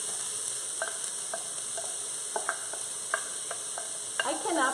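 Stewed tomato ingredients in a hot Mealthy pot give a faint, steady sizzle with a few soft clicks and stirring scrapes, close by and without talk.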